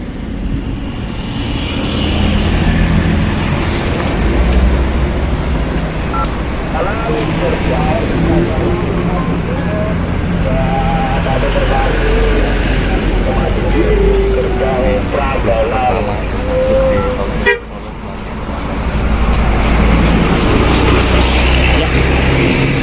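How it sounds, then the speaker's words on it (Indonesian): A bus passes on the newly opened Klaten–Prambanan segment of the Solo–Jogja toll road, a loud, steady roar of traffic rumble lasting throughout with one brief dip partway. "Ini ada bus juga yang melintas."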